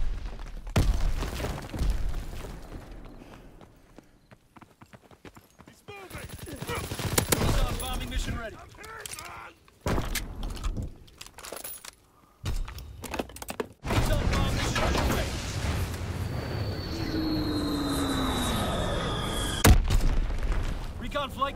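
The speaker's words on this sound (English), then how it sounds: "Throwing grenade!" Gunfire and a grenade blast ring out in a combat video game: dense, rapid volleys, heavy booms and a shattering crash, loud and close throughout, with game voice lines mixed in and a jet-like whine late on.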